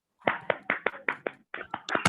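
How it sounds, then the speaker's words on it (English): A classroom of students at a Republic Day celebration claps for a classmate, a quick run of about a dozen sharp, close claps in a loose rhythm, briefly pausing before picking up again. "Everyone clap for Vanchika first of all"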